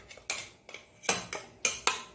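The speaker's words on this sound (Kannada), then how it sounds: "ಒಂದು ಪಾತ್ರೆಗೆ ಇದನ್ನು ಹಾಕ್ಕೊಳ್ತೇನೆ" Ragi flour tipped into a cooking pot gives a series of sharp metallic clinks and clatters, about six separate knocks over two seconds, close and fairly quiet, with no voices.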